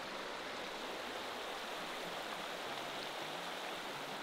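A Carpathian mountain waterfall in Ukraine gives a steady, even rush of falling water over slippery rocks. The broad hiss stays close and continuous throughout, with no voices.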